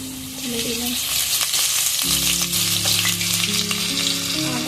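Potatoes fry with ginger paste in a pan for egg curry, a dense, loud sizzle and crackle that swells as the paste goes in, with stirring noises and a faint hum underneath.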